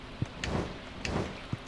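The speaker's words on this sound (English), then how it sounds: "And it's raining again today." Rain falling in the video game Stardew Valley, a soft steady patter with a few brief ticks and low thumps at intervals, quiet and continuous with no talk.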